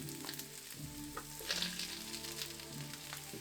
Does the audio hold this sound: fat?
yes